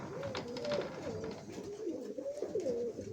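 Pigeons kept in a loft during the breeding season coo in a steady stream of low, rolling calls that overlap close by, with no talk over them.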